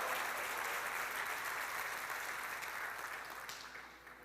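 A church congregation claps together in a dense, loud burst of applause that holds steady and then begins to thin and fade toward the end.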